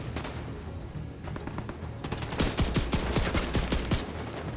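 Rapid machine gun bursts in Tom Clancy's The Division 2, a 2024 PS5 shooter, crackling over a noisy battlefield and growing into a dense string of sharp shots in the second half.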